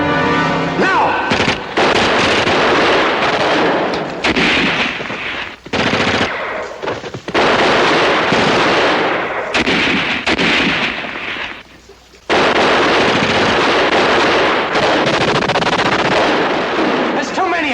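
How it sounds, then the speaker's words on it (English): Loud, sustained gunfire from a war film battle, with rapid machine-gun bursts, heavy shots and booming blasts almost without pause, broken by a couple of brief lulls, and shouted voices mixed in. "Keep firing!"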